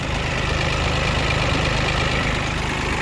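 An Iseki TU145 compact tractor engine idles steadily nearby, a continuous low rumbling drone with a faint rhythmic knock and broadband mechanical noise, no voices.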